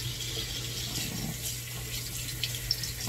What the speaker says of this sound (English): I'm going to rinse my brush head off.